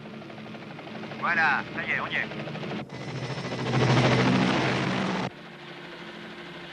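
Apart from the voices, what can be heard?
helicopter flying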